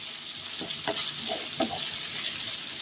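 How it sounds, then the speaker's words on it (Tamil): Onions for a green prawn curry sauté with a soft, steady sizzle in a pan, punctuated by several short scraping stirs of a spatula. "இப்போ ஆனியன் சேர்த்துக்கிறேன். இது நல்லா வதங்கட்டும்."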